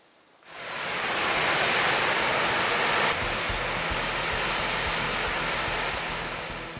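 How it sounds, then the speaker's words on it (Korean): Steady rushing water fills the air near the lower Geumho River, a broad, loud hiss that swells in early and keeps flowing evenly with no voices over it. "시원한 물소리가 더위를 식혀줍니다."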